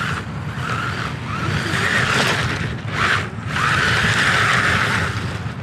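An MJX 14303 Citroën rally RC car running on a 3S battery, its electric motor whining close and loud as it accelerates, dips briefly, then surges again with rough scrabbling tyre noise, no speech.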